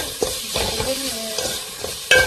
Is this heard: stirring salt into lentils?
yes